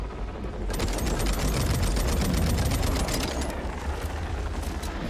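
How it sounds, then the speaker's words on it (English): Jakob guns firing in Borderlands, a steady run of rapid, loud shots rattling close by for several seconds before tapering off, with no talking over it. "Such beautiful guns, the Jacob guns."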